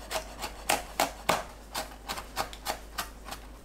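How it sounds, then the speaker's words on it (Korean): A knife chops cheongyang and red chili peppers on a cutting board, about a dozen crisp, evenly paced taps close by, with no talk. "청양고추와 홍고추 작게 썰어주세요."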